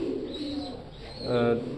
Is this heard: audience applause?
no